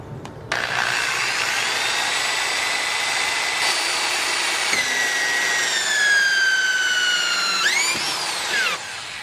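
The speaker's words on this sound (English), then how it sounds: "Using the hole saw that came with the kit on my drill, next I'm going to drill a hole" A power drill whines steadily while a hole saw grinds through a car door panel, pitch dropping under load then rising as it breaks through and stops.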